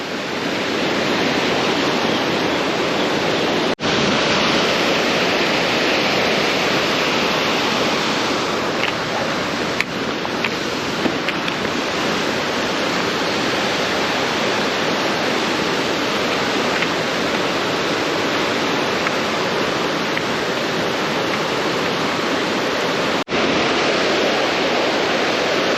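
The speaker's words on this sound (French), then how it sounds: "Et regardez-moi ce cours d'eau." A mountain stream in the Ariège rushes in a dense, steady roar of running water, loud and close throughout with no pauses or voices.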